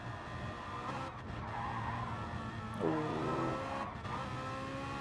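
A Gr3 race car brakes hard in a racing video game at the end of the Kemmel straight into Les Combes at Spa-Francorchamps: engine drone and shifting, then a loud skid and tire squeal, close and continuous.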